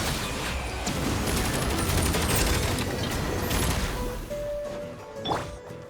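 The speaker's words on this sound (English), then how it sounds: "She has machine guns. 2 machine guns." Rapid machine gun fire from a boss wielding two machine guns in the Genshin Impact video game, a dense, loud continuous barrage with crashing impacts and effects layered over it throughout.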